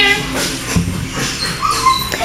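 A puppy whimpers and yips in short, close, high-pitched bursts during a daycare obedience session, scattered over a few seconds amid shuffling and faint background talk.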